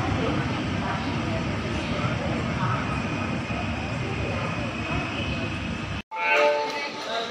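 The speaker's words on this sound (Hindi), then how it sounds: "हमारी ट्रेन आ गई है अपनी फोर्थ हॉल्ट नासिक रोड।" A train pulls into Nashik Road station in India as an express from Mumbai LTT to Gorakhpur. A steady, loud rail rumble fills the clip, then a brief dropout gives way to more station and carriage noise.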